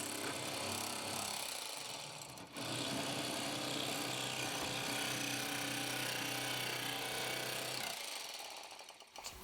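Cordless lithium-ion electric fillet knife skinning a crappie fillet outdoors in subzero cold, a steady buzzing motor drone with a brief dip early on, running for several seconds before cutting off.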